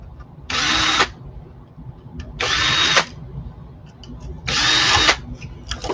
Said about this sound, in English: Yes, we'll do the drill again.